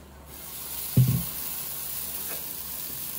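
Amboli batter poured into a hot oiled nonstick pan for Malvani amboli: a single soft burst of sizzle near the start that quickly settles into a faint, steady hiss, heard alone without talk.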